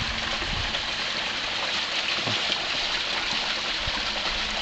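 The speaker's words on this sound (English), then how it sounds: "It's a small little brook." A small brook flowing near a microhydro setup, a steady close wash of rushing water with no pauses, loud and even throughout.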